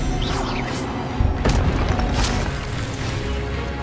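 A fire spell cast in the video game Hogwarts Legacy erupts in a loud booming burst with crackling magical whooshes over a busy, dense game soundscape, sustained throughout.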